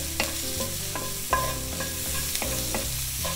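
Shallots and freshly minced garlic sizzling in a hot pan while being stirred, with a steady close frying hiss and irregular scraping of the utensil against the pan.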